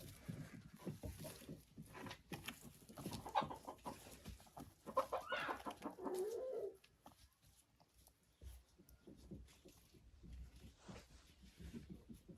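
Hens cluck in a backyard poultry run near hopper feeders, a cluster of calls building over the first half, then quieter scattered clucks and rustling that continue to the end.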